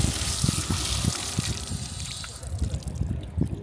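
A free public water tap on a coastal footpath in Cyprus runs steadily, a continuous splashing trickle heard close up against outdoor wind, with no talking.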